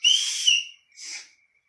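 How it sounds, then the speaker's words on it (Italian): A survival multi-tool's built-in whistle is blown in two shrill blasts, a long one followed by a shorter one after a brief gap, loud and close. "Questo fa anche da fischietto,"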